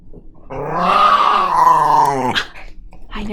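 A puppy growls up close, a drawn-out, rising whiny grumble that lasts about two seconds and ends in a short yip. Quieter snuffling follows.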